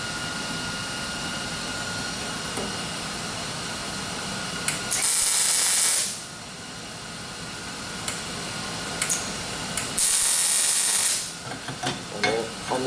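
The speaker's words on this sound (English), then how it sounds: "And I always like to weld the back." A welder fuses diamond weld-in inserts, producing two loud sustained hissing, crackling bursts of several seconds each over a steady mechanical hum, with short clicks and taps between them.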